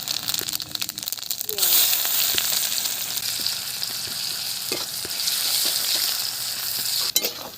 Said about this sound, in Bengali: তেল গরম হয়ে গেছে দিয়ে দিচ্ছি কটা শুকনো লঙ্কা দিয়ে দিলাম জিরে ফোড়ন